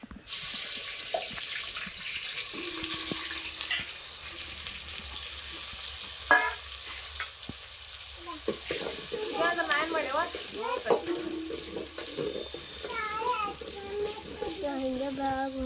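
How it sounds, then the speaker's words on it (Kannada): Onions fry in hot oil in a steady, close sizzle that runs throughout, with a few clinks and splashes of water and a voice talking over it at times. "ಉಳ್ಳಾಗಡ್ಡಿನ ಫ್ರೈ ಆಗ್ಯಾವ್ರೀಗ."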